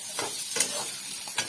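Vegetable bhaji frying in a pan gives a soft, steady sizzle, with a few short scraping stirs close by.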